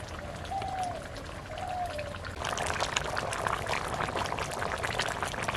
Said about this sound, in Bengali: মিট মশলার পরে আমি 2 চামচ ঘি দেবো